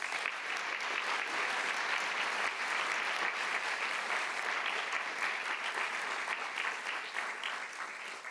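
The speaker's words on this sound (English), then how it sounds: "Give yourselves a round of applause." Sustained applause from a large commencement crowd, dense and steady, continuing for several seconds before starting to taper slightly at the end.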